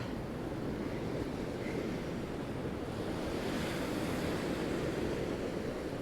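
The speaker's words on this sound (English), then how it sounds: "Beautiful waves." Sea waves surge continuously along Blackpool seafront in February, a loud, steady wash of surf mixed with heavy wind buffeting, close by and with no talk.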